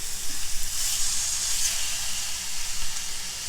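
Loin pork chops sear in a hot pan with a steady, close, even sizzle and hiss that runs unbroken throughout, no voices.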